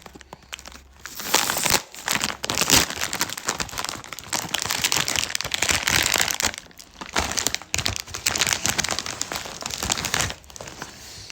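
A bag of Doritos chips is torn open up close, producing loud, continuous crinkling and crackling of the foil packet with brief pauses, and no voice.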